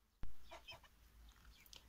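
Farmyard chickens cluck softly several times in short, scattered bursts after a sudden knock, heard at low volume against a quiet background.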